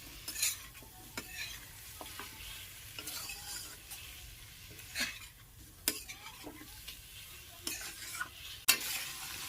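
Chicken masala cooking over a medium flame as a spoon stirs through it, with soft sizzling beneath irregular scrapes and clinks against the pan, close and fairly quiet, no voices.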